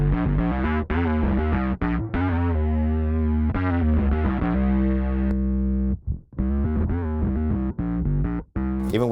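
A bass plays a synth-like tone through a Darkglass Kaamos pedal with chorus added, thick distorted sustained notes with a warbling shimmer, loud and close, broken by a few short gaps.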